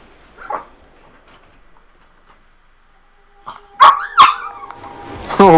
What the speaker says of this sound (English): I guarantee you heard my dog flip the fuck out